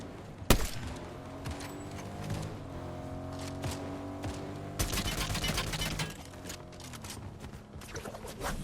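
Auto shotguns fired rapidly in a Fortnite Zero Build fight, a sharp blast near the start, then a steady background of gameplay sound with a dense flurry of shots midway and more scattered blasts later.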